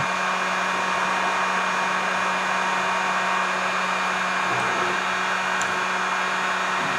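A heat blower runs in a steady, continuous whoosh while drying paint on a Goby-style jig. It stays close and loud from start to finish with no pauses and no talking.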